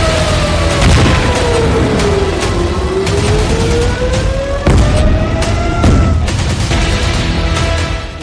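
Iranian missiles strike Israel with loud, heavy booms and rolling blasts, while a wailing siren rises and falls continuously over dense rumbling noise.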